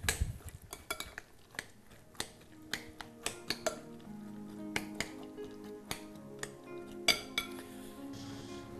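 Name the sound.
mixing potato salad ingredients in a bowl with utensils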